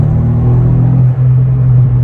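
Chip-tuned VW Up! GTI with a 1.0 TSI engine at 140 hp driving, a loud, steady low engine drone with a brief dip partway through, heard from inside the car with no talk.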